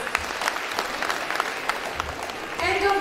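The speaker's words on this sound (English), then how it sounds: "Let's clap for them with a merry heart." Audience applause for a pre-primary student performance at a school event, a steady patter of many hands clapping throughout, with a brief tonal sound rising near the end.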